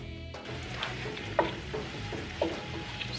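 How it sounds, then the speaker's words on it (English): Salmon and vegetables cook in a pan with a soft, steady sizzle, punctuated by a few light clicks and taps from utensils, close and fairly quiet with no talking. "We are going to add our salmon and season it and let it cook."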